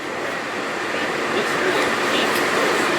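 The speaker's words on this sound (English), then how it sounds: "This is kind of train." Broadband rumbling rush of a train ride at a Walt Disney World theme park, a steady close roar from the moving car that holds level throughout with no clear talk.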